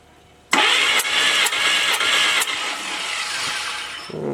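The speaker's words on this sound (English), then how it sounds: "cold start on Gary's engine" A cold Willys engine cranks with a rhythmic starter whir and catches at once, running loud and rough close by, then settles toward a steadier idle. No voices are heard over it.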